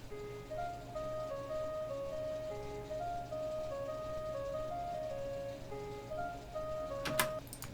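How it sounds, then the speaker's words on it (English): A gentle, subtle synth melody plays over a soft electronic music track, with clear bell-like notes stepping along a low steady bed, fairly quiet and ending in a brief burst of clicks. "I add in this little synth melody"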